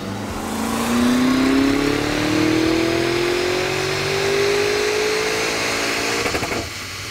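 A Lamborghini Urus or Audi RS Q8 fitted with a high-performance intercooler revs hard on a dyno. The engine note climbs steadily in pitch, loud and close, then cuts off near the end.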